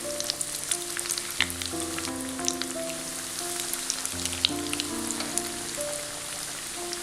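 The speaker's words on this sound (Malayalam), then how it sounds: "ഇനി ഇതിലേക്ക് നമ്മൾ ഉണ്ടാക്കി വെച്ചിരിക്കുന്ന കട്ട്ലേറ്റ് ഇട്ട് കൊടുക്കാം." Tender jackfruit cutlets sizzle steadily in hot oil, a close, continuous frying crackle with scattered pops and no talking.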